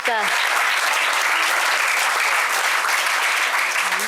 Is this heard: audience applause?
yes